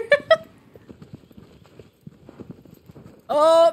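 Horse hooves clip-clop in a quick galloping rhythm in the Shadow of the Colossus video game, faint under game ambience, with a brief voiced sound early and a louder tonal burst near the end.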